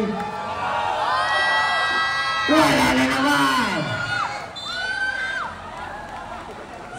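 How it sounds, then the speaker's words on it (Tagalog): A basketball league crowd roars and whoops in the final seconds of a close game, loud rising shouts and cheers swelling over a busy gym din, with an announcer talking through it. "Audience mag-ingay."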